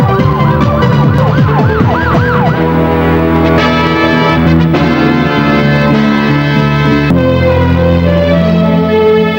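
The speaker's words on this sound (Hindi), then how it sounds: "ये तो पुलिस के सायरन की आवाज लगती है।" A UK police car siren wails loudly and close, rapid rising-and-falling sweeps giving way to a steady alternating two-tone blare that continues for about nine seconds.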